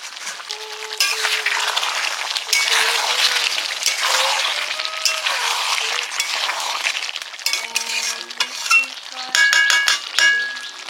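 Fish pieces frying in a pan with potatoes for a home-style curry give a steady, close sizzle for several seconds. Brief clinks and stirring sounds break in toward the end.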